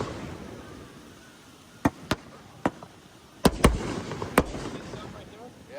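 Three-inch firework shells bursting at an outdoor fireworks show, with about half a dozen sharp reports spaced irregularly over a low crowd murmur, fairly distant and moderately loud.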